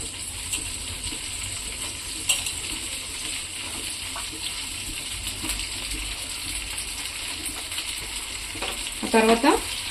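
Cut eggplant pieces fry in a pan, a steady sizzle with occasional stirring clinks and a burst of bubbling, clattering spatter at the very end.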